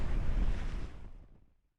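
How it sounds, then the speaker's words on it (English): Wind gusting hard across the microphone while out sailing, a loud rushing roar that holds steady and then fades away to silence. "Oh, the wind's back."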